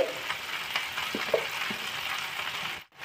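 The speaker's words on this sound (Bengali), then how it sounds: "দিয়ে এবার এইটাকে ভালোভাবে নাড়াচাড়া করে নেবো, একটু ভাজা ভাজা করে নেবো" Potato and carrot pieces stirred and fried in a pan for a milk-based vegetable dish, a low, continuous sizzle broken by a few soft scrapes and knocks of the spoon, then a brief cut to near silence at the end.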